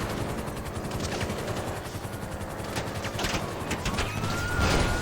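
Chaotic GTA police chase action with two helicopters and police officers pursuing the player. Rapid gunfire bursts and engine drone play over a dense, continuous game soundtrack, loud and busy throughout.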